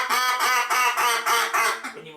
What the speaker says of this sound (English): The next little call that he's going to blow is going to be called the Little Woodsy Sweetmeat.